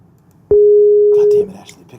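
A Skype call produces a single loud, steady electronic tone lasting nearly a second, clean and sustained before stopping abruptly, with faint background sounds and a voice afterward.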